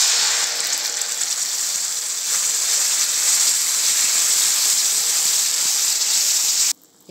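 A steady loud sizzle and hiss as a paste of tomato, green chili and ginger hits hot oil in a pan while cooking palak paneer, continuous and close, cutting off abruptly near the end.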